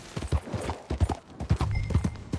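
Horse hooves gallop in Red Dead Redemption 2 on PS4, a loud, close clip-clop rhythm that stays steady through the whole stretch, with no one speaking over it.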